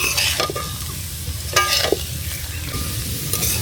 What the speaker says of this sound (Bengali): আমাদের চাউল ও আলু ভাজা হয়ে গিয়েছে, এখন আমরা দিয়ে দেব হলুদ।